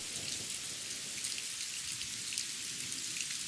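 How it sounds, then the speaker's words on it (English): Heavy rain pours steadily in a thunderstorm around a temple in the Amazon, a dense, constant hiss of drops close by with no clear thunder crack standing out. "another clap of thunder, and then sheets of rain pour down all sides of the temple that shelters you"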